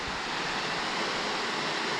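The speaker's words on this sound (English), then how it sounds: "There's a little waterfall." A small waterfall spills through a rocky gorge, giving a steady, broad rushing roar that stays even and close with no voices over it.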